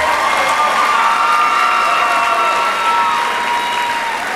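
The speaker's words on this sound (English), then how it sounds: "Give yourselves a round of applause." High school students at a prep assembly in Illinois applaud and cheer together, a dense, steady wash of clapping filling the room with some shouting mixed in, loud and sustained throughout.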